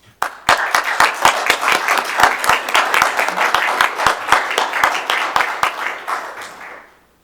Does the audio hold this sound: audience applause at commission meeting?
yes